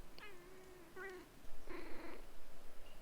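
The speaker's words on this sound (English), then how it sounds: "my cat just decided to sit on my keyboard" A domestic cat gives a few short meows while sitting on a computer keyboard, close and fairly clear, with a faint low background and no talking.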